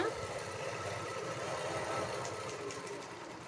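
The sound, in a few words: sewing machine stitching picot on saree edge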